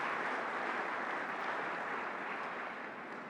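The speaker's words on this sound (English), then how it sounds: "Je vous invite à les applaudir" An audience at the opening ceremony of the 26th Abu Dhabi World Road Congress applauds, a dense, steady wash of many hands clapping in a large hall, fading slightly toward the end.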